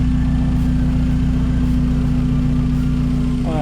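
A Hyundai Genesis Coupe fitted with a Forge blow-off valve idles close by, giving a loud, steady engine hum with an even low-pitched drone throughout.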